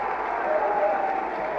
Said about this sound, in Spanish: el público chileno aplaudió de todas maneras la brillante actuación italiana